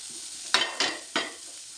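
Onion, green chilli, ginger, garlic and curry leaves stirred in a frying pan for okra curry, with three short scraping sweeps of the spoon over a soft sizzle, no talking.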